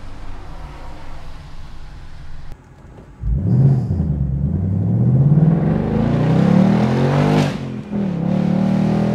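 A Ford Mustang GT convertible pulls hard at full throttle: the engine drops briefly, then roars and climbs steadily in pitch through a long, loud rise. It peaks near the end and falls back as the gear changes.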